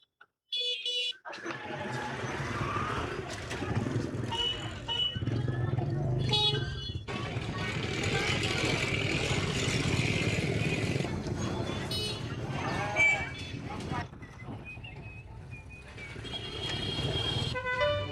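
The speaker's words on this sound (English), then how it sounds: "The noises of motorcycles and cars fill the air." Motorcycles and cars fill a busy Hanoi city street with steady engine drone and repeated horn toots, some near and some farther off, while a narrator talks over much of it.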